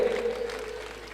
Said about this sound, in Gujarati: ફરીથી તમામ દીકરીઓને એકવાર તાળીઓ અને ગગડાટી વધાવી લઈએ.